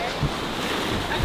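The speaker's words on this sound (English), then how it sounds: "I cannot emphasize how windy Mykonos is." Choppy ocean waves crash under strong gusting wind along the Mykonos shoreline, a continuous roaring rush with heavy wind buffeting the microphone.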